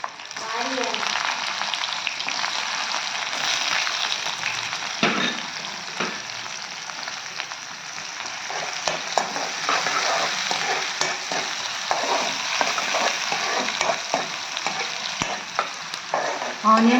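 Onions fry with green chillies in a pan, a continuous hissing sizzle beneath occasional scraping and tapping from a stirring spoon, close and steady throughout with no talk.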